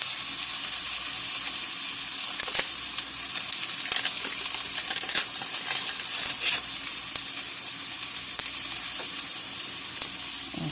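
Butter sizzling and crackling in a hot frying pan, a steady loud hiss with scattered sharp pops throughout, no voices.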